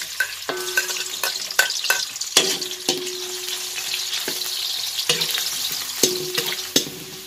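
Onion sautéing in a pan gives a steady close sizzle punctuated by repeated sharp scraping clinks of a spatula stirring against the metal, with no talk.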